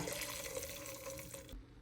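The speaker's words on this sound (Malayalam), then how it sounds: "അതിലേക്ക് നമ്മൾ വീണ്ടും ഒരു തിളച്ച വെള്ളം മുക്കാൽ ലിറ്റർ ഒഴിച്ചു കൊടുക്കുകയാണ് കേട്ടോ" Three-quarters of a litre of boiling water pours steadily into a pot of chicken sweet corn soup, a continuous splashing flow that stops abruptly near the end; no one speaks.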